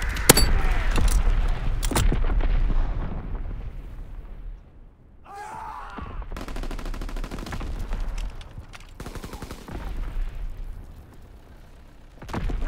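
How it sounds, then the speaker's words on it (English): Call of Duty WW2 multiplayer mortar fire: booming impacts and bursts of gunfire, with heavy blasts early, a brief lull, then renewed rattling fire and explosions through the rest. "Sending mortar rounds. Zone and sweep."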